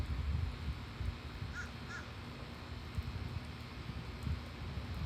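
A crow caws twice in quick succession at a distance, faint against a quiet outdoor background of wind and low rumble, with no talking.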